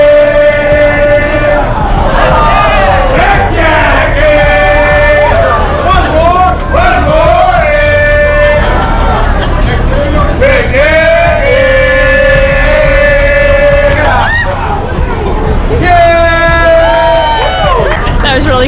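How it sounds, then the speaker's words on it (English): Fishmongers at a famous fish-throwing corner yell and chant loudly in long sung calls, with a dense crowd murmuring and cheering all around. The noise is continuous, close and busy throughout. "We're at the famous fish corner where they throw fish and yell and scream."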